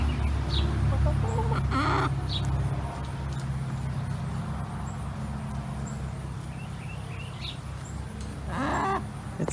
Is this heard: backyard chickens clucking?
yes